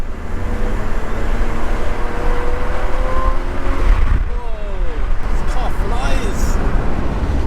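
A 1988 Toyota Supra with a straight-six engine accelerates hard on a highway pull, its loud, close engine note climbing steadily over constant road and wind roar.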